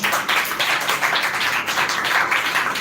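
An audience at an English speaking competition claps continuously, a dense, even patter of many hands close by, with no talking over it.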